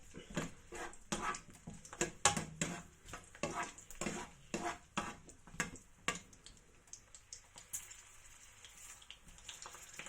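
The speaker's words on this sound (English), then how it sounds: "we're going to get our garlic nice and crispy. So we're just going to fry this a bit." Garlic frying in oil for adobo, a soft close sizzle with rapid rhythmic tapping and scraping of a utensil in the pan, easing off toward the end.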